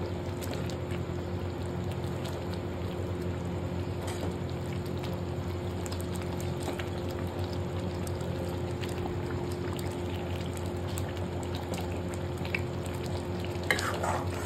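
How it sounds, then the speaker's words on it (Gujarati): A Kashmiri dum aloo mixture of potatoes is stirred in a hot pan, giving a steady close sizzle with soft scraping throughout, without any talking. "મિક્સ કરી લેશું."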